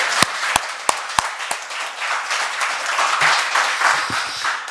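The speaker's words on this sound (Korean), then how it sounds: "마지막으로 더 큰 박수 부탁드리겠습니다" A room full of people applauding at a Korean council education committee session, a few loud nearby claps at the start blending into continuous, even clapping.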